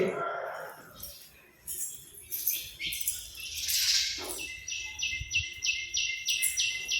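House sparrows chirp inside a home where they nest indoors, a run of quick, bright repeated chirps growing steady toward the end, with someone talking over the first part.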